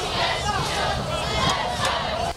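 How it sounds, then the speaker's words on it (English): Spectators at a high school football game, Ridgeline High School's first game at its new school, roar and yell in a loud, sustained chant as cheerleaders hype them, before the noise drops off abruptly at the end. "Cheerleaders are hyping up the crowd"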